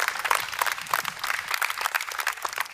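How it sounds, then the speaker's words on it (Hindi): Schoolchildren clap together as an audience at a Diwali gathering, producing a brisk, uneven patter of many hands that holds at a fairly steady level for a few seconds. "मुझे लगता है अपने लिए भी एक राउंड ताली बजाओ सब"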